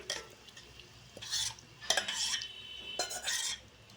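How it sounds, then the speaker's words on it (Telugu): Marinated chicken being stirred into masala in a pot for chicken biryani, heard as repeated scraping and sizzling strokes of a spoon against the pot, close and fairly steady, with no talking. "యాడ్ చేసుకొని బాగా మిక్స్ చేసుకోండి"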